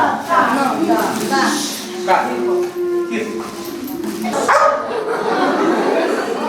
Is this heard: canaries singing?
no